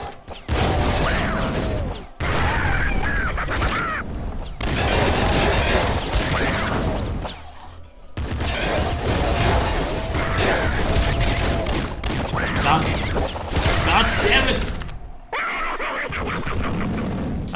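Loud bursts of auto shotgun fire in the top-down game Nuclear Throne, rapid blasts packed into several long volleys separated by brief pauses, with clattering mechanical weapon noises.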